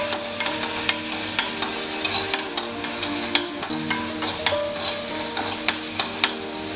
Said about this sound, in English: saute them. Till they get a nice crusty and crispy flavor.